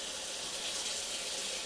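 Cold water runs from a tap in a steady, continuous rush that stays at the same level throughout, with nothing else heard over it.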